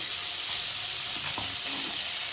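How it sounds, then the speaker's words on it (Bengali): Vegetables fry in oil with ginger paste, cumin paste and garlic, a dense, even, close-up sizzle that continues without pause. "সবজিটা ভাজা ভাজা হয়ে গেছে"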